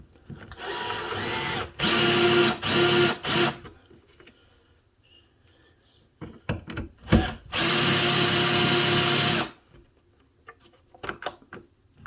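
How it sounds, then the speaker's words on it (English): A power drill drives screws into an electrical outlet in several loud, close whirring bursts of one to two seconds each, separated by pauses filled with clicks and handling noises. "get my screws started, and then I'll power drill it all the way in"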